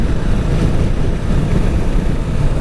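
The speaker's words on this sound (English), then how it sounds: "the wind blast is actually pulling the vehicle towards left" Strong wind roars and buffets a microphone during a motorcycle ride on an Apache 200 at Dhanushkodi, a steady loud broadband rush with no let-up and no talk.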